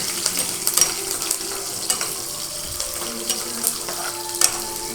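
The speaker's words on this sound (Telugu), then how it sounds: "వెల్లుల్లి, శనగపప్పు వేగేంత వరకు బాగా ఫ్రై చేసుకోవాలన్నమాట." Spices, garlic and chana dal sizzle in hot oil for a tempering, a steady bright crackle with occasional stirring clinks and small pops, close and continuous.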